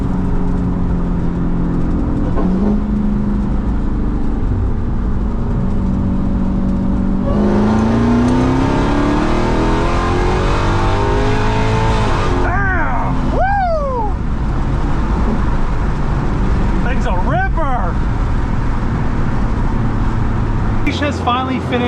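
Red Hellcat Magnum engine with a full 3-inch MagnaFlow exhaust and no catalytic converters revs hard and rises in pitch, then drops back in repeated throttle blips over a constant loud rumble. Close and dominant, with voices underneath.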